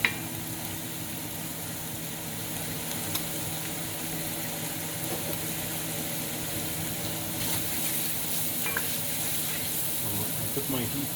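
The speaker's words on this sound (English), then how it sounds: "I didn't put my heat too high because I don't want to burn the onion." Onions sautéing over moderate heat with a pinch of salt, a steady soft sizzle running evenly throughout with occasional faint crackles, nearby and moderately loud.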